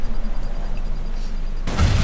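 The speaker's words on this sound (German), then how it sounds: "jetzt explodiert die Granate bei dem." A sudden loud burst at the end of a steady game soundscape in the video game Watch Dogs, a grenade exploding with a deep, booming rumble after a stretch of quiet electronic tones.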